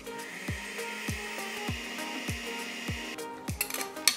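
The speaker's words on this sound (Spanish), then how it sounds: "Esto de aquí lo vamos a licuar solo con aceite vegetal." Electric blender running steadily, blending ají amarillo paste with vegetable oil, a continuous whirring motor hum with a rhythmic knock repeating about every half second, ending in a few clattering bumps.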